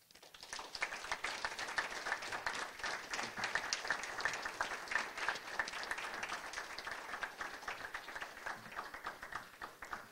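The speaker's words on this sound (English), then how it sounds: "please let me ask all of you to give big applause to Professor Grossberg" Sustained audience applause at a university's final public lecture, dense clapping from a large crowd that starts abruptly and holds steady for about ten seconds, moderately loud with no voices over it.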